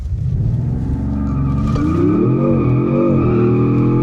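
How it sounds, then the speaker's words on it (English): A 2026 Dodge Charger Scat Pack in rear-wheel drive mode doing a brake-torque launch without launch control, a loud close engine rumble that builds and rises in pitch as it pulls away. "no launch control, just gonna brake torque it."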